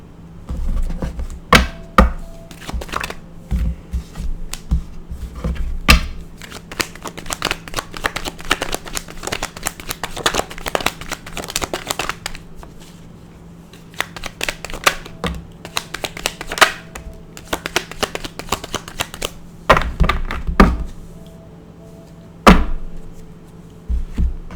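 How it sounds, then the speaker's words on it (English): Tarot cards are shuffled and spun, with quick riffling bursts and sharp clicks coming in uneven clusters, close and fairly loud, with short pauses between rounds. "I like these cards when I spin them better because they spin so well"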